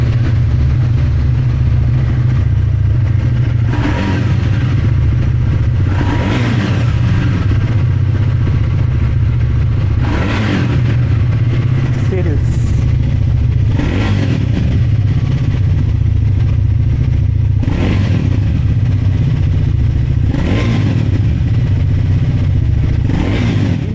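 A Triumph Speed 400 motorcycle engine rumbles steadily at close range, its deep low throb punctuated every few seconds by sharp throttle blips and revs, with no talking.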